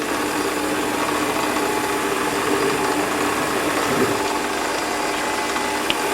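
A Warco metal lathe centre drilling a hole in a workpiece, a steady, continuous mechanical whir and grind of the running machine, close and even throughout, with one faint click near the end and no talk.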